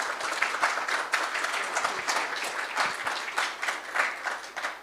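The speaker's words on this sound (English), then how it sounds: "Can I get a massive round of applause?" An audience at a Linux and Python conference opening session applauds, a moderately distant, even roar of many hands clapping that continues throughout.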